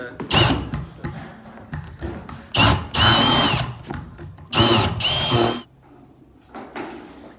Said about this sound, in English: I borrowed a 2-inch hole saw